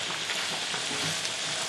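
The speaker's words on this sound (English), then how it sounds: "Okay, our beef is cooking nicely." Ground beef frying in a pan for spaghetti meat sauce, a steady, dense sizzle and crackle held at an even level throughout, with no voices.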